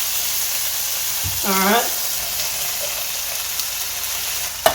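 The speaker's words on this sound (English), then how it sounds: "Dump these red beans in here. I've got this on a low simmer." Three cans of drained red beans on a low simmer in a pot give a soft, steady bubbling hiss, with a short spoken word and a small knock near the end.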